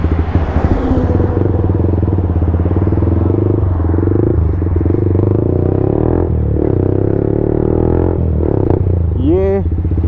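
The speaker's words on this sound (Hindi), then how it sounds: "ये डाल दिया हमने full system SC project MT-15 में। सो ये है इसकी साउंड।" A Yamaha MT-15 motorcycle fitted with an SC Project full-system exhaust idles with a loud, steady, throaty burble close by, then revs briefly near the end.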